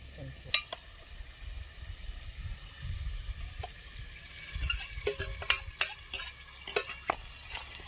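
Boiled Maggi noodles being stirred in a pan at an outdoor farm cooking spot, with soft scraping and light clinks of a utensil against the pan that grow busier toward the end, close up, over a faint background hum.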